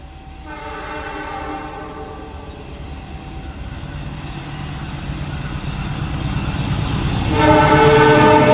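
A passenger train on an Indonesian railway passes close by, its horn sounding in long sustained blasts at the start and again at the end over a rising, heavy rumble of rolling wagons and wheels, with no talk.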